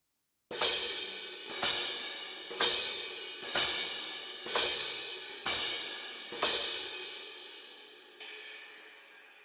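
On a drum kit, seven evenly spaced, washy crashes sweep across the cymbals in a swipe pattern, each one decaying before the next hit. A faint, softer hit comes near the end.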